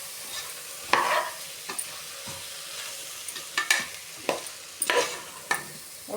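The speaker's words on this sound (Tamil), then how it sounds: "மொத்தமாக கரண்டி வச்சு நல்லா கிண்டி விட்டுக்கோங்க" Rice for a vegetable biryani is stirred in a pot with a ladle, making intermittent scrapes and clinks over a soft sizzle.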